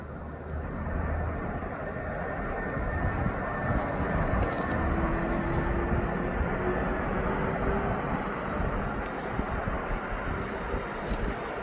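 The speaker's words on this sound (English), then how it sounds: "We got another 767 coming in from New York." A Boeing 767 lands at East Midlands Airport, a continuous broad jet roar holding steady at moderate distance with a faint whining tone running through it.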